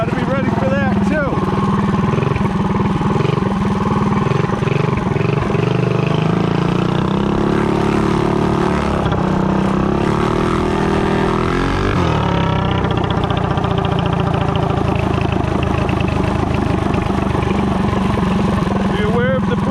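A modified VW Torque Bug revs and accelerates hard during a pulley spring acceleration test, its loud, rough engine note droning steadily close by for the whole stretch, with a shift in pitch midway as it pulls through.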